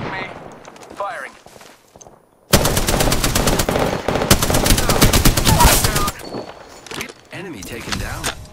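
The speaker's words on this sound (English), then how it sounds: "Shot fired." Video game gunfire opens abruptly with a loud, sustained automatic burst that rattles for several seconds, then thins into scattered shots, with someone talking before and during the firing.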